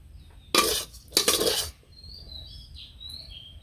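A pot of charchari comes off the stove in a village kitchen with two short bursts of metallic scraping and clanking, followed by quiet in which birds chirp faintly in the background.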